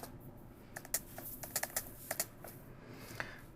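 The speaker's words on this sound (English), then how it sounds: "Keyboard, very sticky today." Keys tapped on a sticky computer keyboard, a run of about a dozen sharp clicks in uneven bursts, close and fairly quiet over a faint steady background hum.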